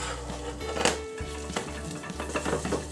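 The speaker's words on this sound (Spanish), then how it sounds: "Mezclamos todo durante unos segundos." Spoon stirs chicken and vegetable risotto in a pan, scraping and clinking against the metal over a soft sizzle, with uneven knocks and no talk.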